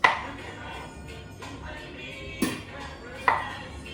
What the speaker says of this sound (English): start chopping the plantain like this